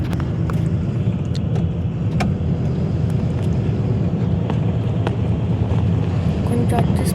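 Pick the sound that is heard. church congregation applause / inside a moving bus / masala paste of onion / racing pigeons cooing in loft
inside a moving bus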